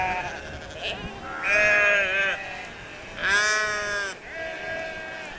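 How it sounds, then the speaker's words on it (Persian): Sheep bleat on a large farm in New Zealand near Rakaia Gorge, two long loud wavering calls with a fainter one at the start and another trailing at the end, no talk. "فارم گوسفنده"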